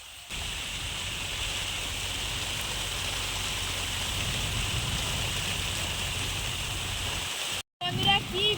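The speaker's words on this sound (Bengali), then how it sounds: "বৃষ্টি চলে এসছে আর তুফান বৃষ্টি হচ্ছে" Dense, steady downpour roaring without a break over a small fish-farm pond, broadband hiss of heavy rain close by, cut off briefly near the end before continuing.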